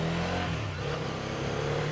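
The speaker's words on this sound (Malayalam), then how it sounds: "സ്റ്റാർട്ട് ചെയ്ത് ഇതാണ് എക്സോസ് നോട്ട് വരുന്നത്." A Hero Karizma XMR motorcycle idles after starting, its exhaust giving a steady, close, continuous engine drone with no speech.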